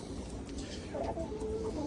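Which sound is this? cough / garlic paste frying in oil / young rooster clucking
young rooster clucking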